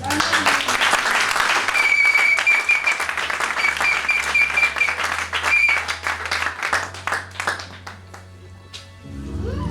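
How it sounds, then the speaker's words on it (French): A church congregation applauds loudly and continuously, with dense clapping that thins toward the end while a low sustained organ-like tone plays underneath. "Est-ce qu'on peut acclamer le Seigneur?"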